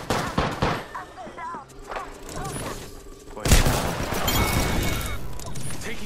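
Bursts of gunfire in a video game squad battle, sharp shots scattered early then a loud sustained volley in the second half, with voices talking under the shooting.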